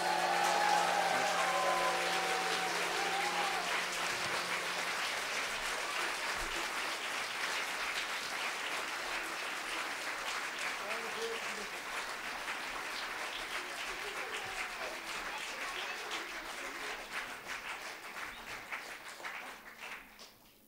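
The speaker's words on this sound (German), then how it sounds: "Applaus, Applaus für die Kinder." A gathering at a yoga satsang applauds children with sustained, dense clapping that stays loud and even for about twenty seconds before fading out at the end, with no one speaking over it.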